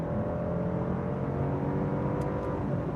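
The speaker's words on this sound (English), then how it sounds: "kicking it down to 4th gear" Inside a 2021 Genesis G80 3.5T Prestige AWD, the engine drones steadily and loudly as the automatic kicks down to fourth gear under hard acceleration, with no talk.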